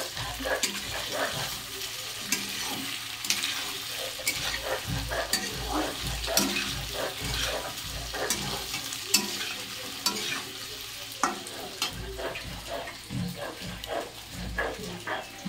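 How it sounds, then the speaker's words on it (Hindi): Potatoes frying in a pan at home, with a steady sizzle and frequent scraping stirs, and a dog barking faintly now and then in the background. "उधर देखिए आलू भून रही हूँ"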